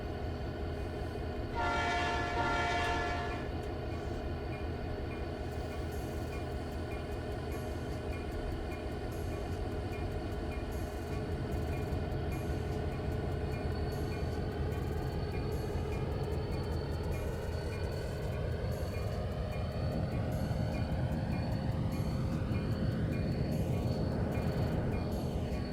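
Reefer train of priority perishables departing on the SSW Coxton Sub in Trainz 2019, with a loud steady diesel rumble and rail noise throughout and a brief horn blast near the start.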